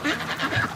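Ducks quack in a close, loud burst of overlapping, rasping calls, several birds chattering rapidly together within a moment.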